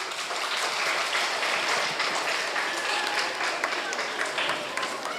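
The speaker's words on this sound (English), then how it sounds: "Can we all clap for them once again?" Audience applause at an intercampus literary fest, a steady wash of clapping from a crowd that holds evenly for about five seconds with faint voices mixed in.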